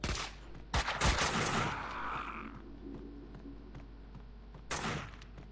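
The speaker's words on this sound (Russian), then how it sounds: "Слишком много стрельбы непонятной" Bursts of gunfire crack out in the video game Max Payne 2: The Fall of Max Payne, a quick volley at the start and another short burst later, over a steady low hum.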